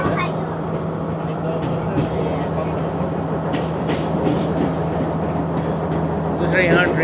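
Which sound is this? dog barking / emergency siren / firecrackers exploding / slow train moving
slow train moving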